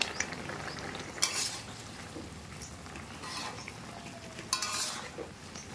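Cumin powder and fried fish head go into a simmering pumpkin curry in a pan, with soft stirring scrapes, a faint sizzle and a few sharp utensil clinks against the pot.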